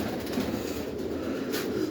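A pigeon in a breeding loft during the start of the breeding season, cooing low and steady for about two seconds at close range, with a faint higher bird call near the end and no talking.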